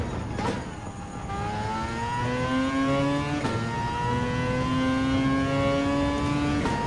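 A Suzuki Vision Gran Turismo concept race car in Gran Turismo 7 revs hard through a series of upshifts, its engine note climbing repeatedly, loud and close, with no voices.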